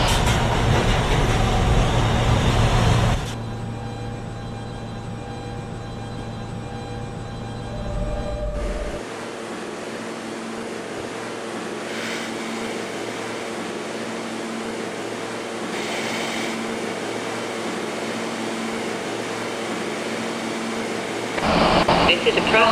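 R160 Siemens subway shuttle train in the Trainz 12 game, running the Franklin Avenue shuttle toward Prospect Park: a steady interior hum and rumble with motor whine shifting in pitch, with a recorded announcement voice over it.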